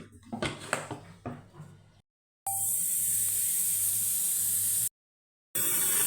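A steady, loud hiss of steam bursts out, cuts off briefly, then resumes, following a few seconds of quieter clattering in a kitchen.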